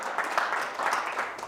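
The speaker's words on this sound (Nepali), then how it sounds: "ठुलो ताली बजाउँदै ख्रिस्ट येशूलाई हामी महिमा दिनेछौँ" Crowd applause from a church congregation, a steady dense wash of many hands clapping together, moderately loud and fairly even, with faint voices blended in.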